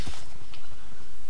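A baby horse in the video game Minecraft gives a brief, close, loud call with no other sound around it.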